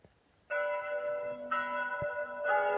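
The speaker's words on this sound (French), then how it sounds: "c'est les cloches sonnent pour célébrer la première messe de Saint-Rémy" The bells of the Saint-Rémi cathedral ring for the first mass, with loud, sustained tolling strikes entering about every second and overlapping in a rich, ringing chime.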